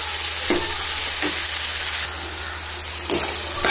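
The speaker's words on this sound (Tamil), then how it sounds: "இஞ்சி பூண்டு வெங்காயம் மூணும் நல்லா வணங்க ஆரம்பிச்சிருச்சு" A ground paste of ginger, garlic, onion and small onions with salt fries in a pan, giving a loud steady sizzle over a low hum, broken by three or four spatula scrapes.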